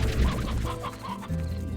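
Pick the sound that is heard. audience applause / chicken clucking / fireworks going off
chicken clucking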